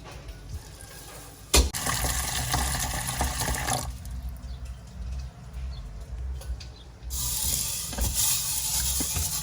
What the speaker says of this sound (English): I'm just going to wash them a little bit, just kind of like you do rice